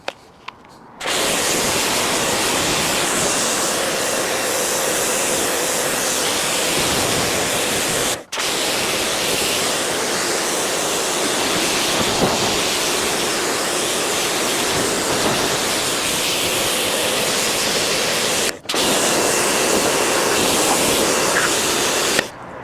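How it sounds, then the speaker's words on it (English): A pressure washer blasts water onto a car in winter in a loud, continuous, close hissing roar, cut by two brief pauses, with no voices. "More pressure washer cam."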